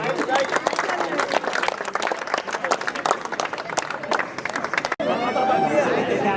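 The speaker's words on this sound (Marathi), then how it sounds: "सर्वांनी जरा जोरदार टाळ्या वाजवायच्या आहेत." A crowd claps at the final-day closing ceremony of a local cricket league, dense applause with chatter and shouts mixed in, then a brief break before more crowd noise and a voice.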